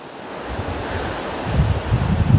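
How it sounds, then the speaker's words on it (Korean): Heavy ocean surf rolling and crashing nearby at Songjeong, a broad roar building in strength with wind buffeting the microphone. "큰 파도가 오는데 한 번 더 구경하실까요?"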